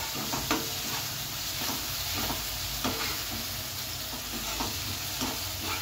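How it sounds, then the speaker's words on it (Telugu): Ginger garlic paste fries in a pan with a steady, close sizzle, broken by the repeated scrape and knock of a spoon stirring it every second or so. "అల్లం వెల్లుల్లి పేస్ట్ పచ్చివాసన పోయేదాకా వేసుకున్నామండి బాగానే"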